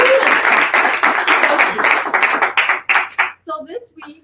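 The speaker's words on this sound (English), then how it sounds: "Give Rob a big round of applause." An audience claps for Rob at a Strongbrook business training session: a dense, steady round of applause for about three seconds that thins into scattered claps as a voice starts talking.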